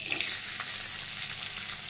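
Capsicum fries in butter and white oil in a pan, giving a steady, close, even sizzling hiss with faint crackles and no voices over it.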